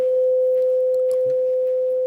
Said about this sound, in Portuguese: o som mais puro possível é o do diapasão.